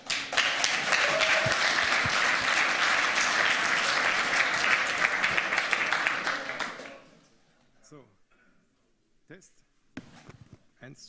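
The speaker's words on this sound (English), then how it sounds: "now give them a warm applause" Warm applause from a lecture audience at a hacker conference talk, sustained dense clapping for about seven seconds that fades out, followed by quiet handling noises and a voice.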